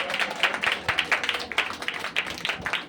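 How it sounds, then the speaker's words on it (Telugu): A church congregation claps hands in praise, a steady rhythmic run of fairly close, crisp claps keeping a brisk, even beat throughout. "2 చేతులతో చప్పట్లు కొడుతూ దేవుని స్తుతిద్దామా?"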